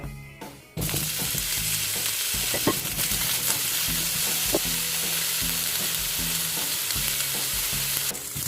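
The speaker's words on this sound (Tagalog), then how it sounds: "first, I want to fry my potato." Potatoes hit hot olive oil in a pan and burst into a loud, steady sizzle after a brief quiet start, with occasional clinks and scrapes of stirring, close up and without voices.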